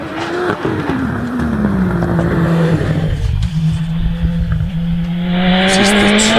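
A Gould GR59 hillclimb race car with a turbocharged Busa engine races past at a British Championship event at Harewood, its loud engine holding a steady high note, then rising again as the car accelerates through gear changes.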